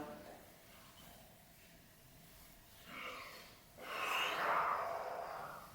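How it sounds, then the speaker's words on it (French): Slow, deep breaths come during a morning self-massage routine: soft inhales, then louder breathy exhales through nose and mouth, close and quiet. "Encore une ou deux respirations."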